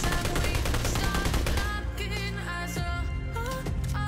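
Semi-automatic SKS designated marksman rifle firing in the mobile battle-royale game PUBG Mobile, loud and continuous, with dense repeated shots blended under game music.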